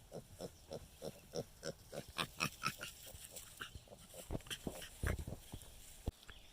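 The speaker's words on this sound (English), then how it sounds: "We also have piglets." Young Cooney heritage-breed piglets, one month old, on a farm, grunting and squealing in a busy run of short overlapping calls, close and fairly loud, with no talking.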